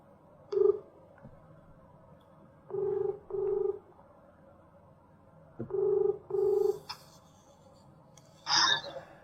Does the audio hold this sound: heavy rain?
no